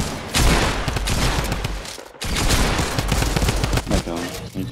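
Pump shotgun blasts in the Fortnite video game, a dense burst of loud gunfire with several rapid shots, a short gap, then more shots.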